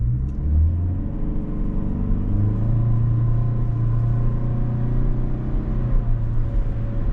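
Engine drone of a 2025 Toyota Sienna LE minivan driven in sport mode with the gear selector shifted manually, a steady low rumble held throughout with slight swells in pitch, heard from inside the cabin.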